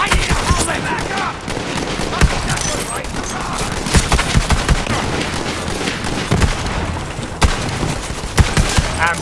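Dense, continuous gunfire in the video game Borderlands 3, with rapid overlapping shots and booms throughout, loud and close, mixed with game voices and effects.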